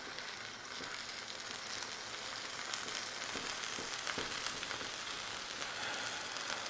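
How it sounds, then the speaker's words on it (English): A birria taco with cheese sizzles on a hot griddle, a steady close crackling hiss with scattered small pops running continuously throughout, no voices. "You hear that nice sizzle?"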